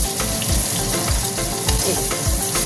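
Garlic cloves frying in a pan, browning before green chillies go in for a rohu fish and jute leaf curry; a steady, close, dense sizzle with soft crackles and occasional stirring scrapes, no talk.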